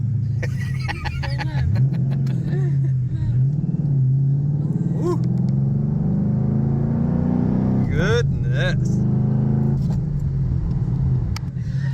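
A deep, steady V8 rumble from a 2012 Ford Mustang Boss 302 with rising revs, while people exclaim and react excitedly over it close by.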